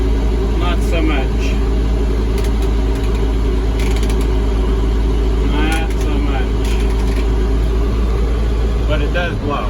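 The heater fan in a 1998 International diesel truck blows a loud, steady rush of air over a low engine drone inside the cab. Faint voice-like sounds come through now and then.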